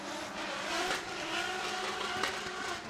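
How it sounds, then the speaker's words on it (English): Drift cars battling side by side on a circuit during a Pro-Am Top 32 round, engines roaring steadily with tire squeal as they lift off and get back on the power, a continuous loud wash of sound. "Barely an inch between them as they let off the power, slow the cars down, and then get straight back into it"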